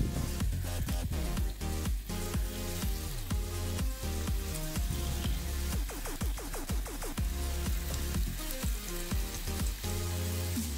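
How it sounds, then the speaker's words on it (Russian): Loud, dense sizzling of floured pork slices frying in a hot pan, steady throughout with crackling pops and a few clinks. "запанированные мукой пластинки кладем на сковородку."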